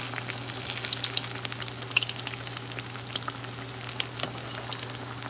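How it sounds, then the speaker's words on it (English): Steady sizzling of bread pakora frying in hot oil, with crackles and pops throughout and a low hum underneath; no one speaks. "My dad frying with the bread pakora"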